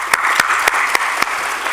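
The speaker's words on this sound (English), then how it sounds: "let's have a hand of applause for Teresa Meng" An audience applauds for Teresa Meng at an award event, a steady wash of clapping with sharp regular claps standing out near the microphone.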